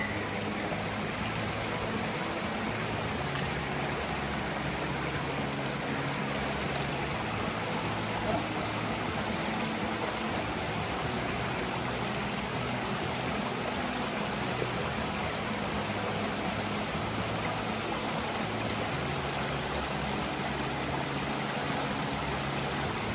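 A river flowing in the autumn backcountry, a steady broadband rush of water running continuously and fairly close, with a voice faintly present at times.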